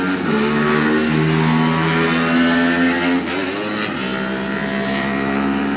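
Honda racing motorcycles at the 2019 Junior Classic TT on the Isle of Man blare in a loud, sustained engine drone whose pitch rises and shifts as they pull away, with no voices over it.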